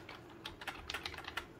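A quick burst of keystrokes on a computer keyboard, several crisp clicks in about a second and a half, close and fairly quiet.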